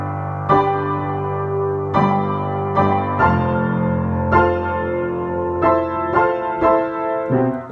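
Left-hand piano part of the introduction to the hymn Joyful, Joyful, We Adore Thee, a series of low, ringing notes and chords struck one after another at a slow, steady pace, played alone and close.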